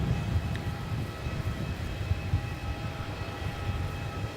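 Etihad airliner taking off from runway 34 at Melbourne Airport, a steady, broad engine roar at moderate distance holding even throughout, with a faint high whine above the rumble.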